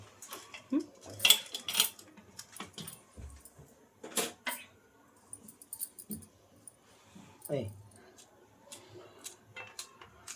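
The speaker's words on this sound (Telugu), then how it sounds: "ఇప్పుడు కట్ చేద్దాం." Okra (bendakaya) is cut with a knife in a home kitchen, giving sparse, irregular close clicks and taps against the board and utensils, with occasional quiet talk between them.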